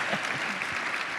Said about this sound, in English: And go ahead and clap.